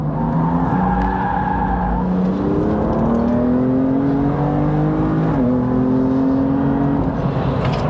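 A Toyota MR2 race car on the Snetterton circuit pulls hard through the gears, its engine revving loud and close with rising pitch sweeps and a brief gear change, while tires faintly squeal.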